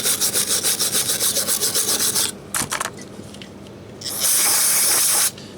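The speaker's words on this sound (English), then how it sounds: "with the hand brush, you're never really going to get it all, but just get what you can" A hand brush scrubs Ford Fiesta brake parts in quick rhythmic back-and-forth strokes, then brake cleaner sprays in a loud steady hiss for about a second, with a few scattered scrapes in between.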